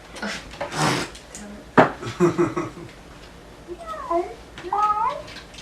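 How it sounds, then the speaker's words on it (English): Meows from pet cats, two short rising-falling cries near the end, follow indoor conversation and a clatter; people talk over the first half. "Our cats are insane, and she's on drugs right now."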